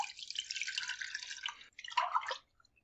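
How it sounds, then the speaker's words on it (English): Water from a glass poured into a pan on the stove for bay leaf tea, a steady splashing pour lasting about two seconds, then a brief trickle before stopping. "I'm going to put in 1 glass of water"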